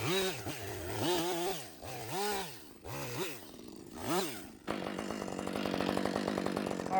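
A chainsaw trims and bucks a fatwood snag, its engine revving up and down in repeated surges before settling into a steady, buzzing cut, fairly close and moderately loud with no talk.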